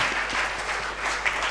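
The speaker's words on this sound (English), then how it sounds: "a huge round of applause for Dr. Prakash, please" Audience applause at the closing session of a live hackathon event in Vizag: a steady, dense wash of clapping that holds evenly for its brief length, with no voices over it.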